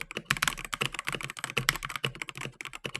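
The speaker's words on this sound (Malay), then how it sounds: "Dari segi typing memang ringan sebab dia menggunakan red switch." Fast typing on a Salpido Slingshot 007 61-key mechanical keyboard with red switches, a dense, steady stream of light, close clacks with no voices.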